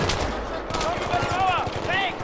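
Rapid bursts of video game gunfire crackle over busy in-game noise and voices in a Battlefield 3 campaign mission, with short repeated shots in quick succession.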